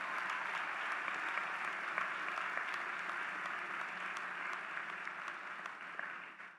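Sustained applause from the audience at the University of Illinois Chicago College of Pharmacy spring commencement, a steady, even roar of many hands heard from a distance, tapering slightly at the end.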